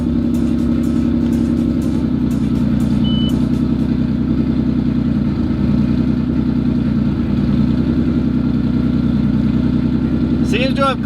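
Subaru WRX STI with a 3.3L H6 engine idling after a cold start, a loud, steady low-pitched idle hum with slight fluctuations and a few brief electronic chirps near the end.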